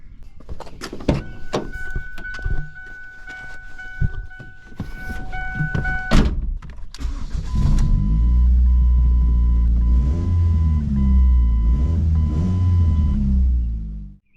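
A 2005 Ford Focus engine idles with a deep, steady exhaust rumble through a split resonator after a series of clunks and knocks, holding loud and close for several seconds before cutting off.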